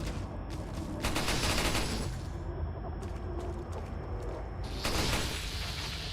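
Gunfire in the video game Resident Evil 4 comes in dense rapid bursts of shots, fairly faint and heard through a game soundtrack, with short breaks between volleys.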